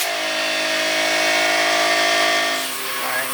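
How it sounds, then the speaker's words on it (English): An air compressor nozzle blows out lawn mower carburetor parts with a loud, steady, close hiss that eases slightly near the end of the short burst. "Apparently I already have the air compressor plugged in"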